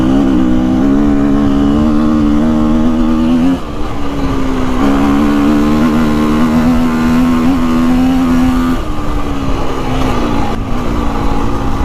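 A motocross motorcycle engine drones loud and close as it is ridden, pitch rising and dipping with throttle changes and a brief lull before revving on continuously.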